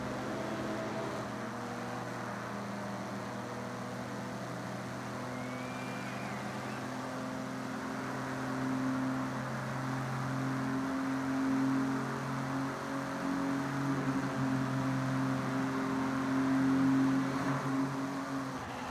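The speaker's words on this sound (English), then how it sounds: "Car sounds could be a little bit better, I would say." Engine of a car driven in the racing game Forza Horizon 6, a steady humming drone with a tonal whine that rises slightly in pitch and grows a bit louder toward the end, no talking.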